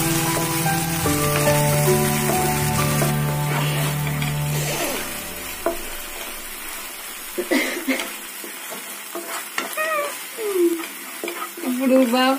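Cauliflower pieces for gobi manchurian fry in oil with crackling sizzle beneath a tonal hum that fades out, leaving sparse pops and stirring clatter toward the end.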